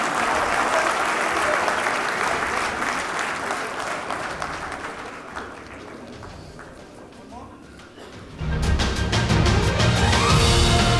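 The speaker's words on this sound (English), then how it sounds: "Big round of applause" Audience applause at a print industry summit in India, a dense sustained wash of clapping that thins midway, then swells back loud with a burst of cheering and music near the end.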